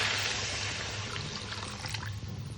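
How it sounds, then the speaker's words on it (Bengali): Water poured into spices frying in a pan as a dish is cooked, a brief close gushing pour and sizzle that fades over a couple of seconds, with no voices. "এবারে তো দিয়ে দেবো পরিমাণ মতো জল।"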